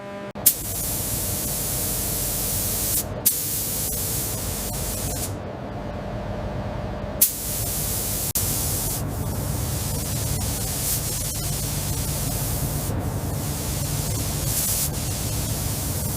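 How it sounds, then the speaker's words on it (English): A steady, continuous hiss of an electrostatic powder coating spray gun coating motorcycle rims in a factory runs throughout, broken by a few brief pauses and faint clicks, with a low hum underneath. "Multiple spray passes are applied, each lighter than the last."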